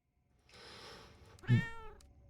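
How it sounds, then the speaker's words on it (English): A domestic cat gives a single clear meow close by, rising out of a soft rustling background and fading quickly. "I heard cat. Where's cat? Did you guys hear cat?"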